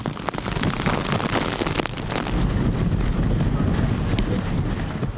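Strong typhoon wind roars and buffets the microphone in heavy gusts in Heng Fa Chuen, eastern Hong Kong Island, a loud rushing blast that surges and stays intense.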